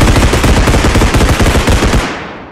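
Rapid, dense automatic gunfire rattles nonstop in a bodycam-style shooter game's team deathmatch on a house map, loud and close for about two seconds before cutting off and fading out.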